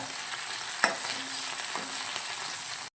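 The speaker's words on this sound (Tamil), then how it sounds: "கொஞ்சம் கறிவேப்பிலை சேர்த்துக்கோங்க. அதையும் நல்லா வதக்கிக்கோங்க." Curry leaves sautéed in a pan for a simple side dish, a steady close sizzle broken by a couple of sharp stirring scrapes, no voices.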